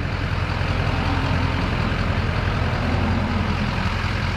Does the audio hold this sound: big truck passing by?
yes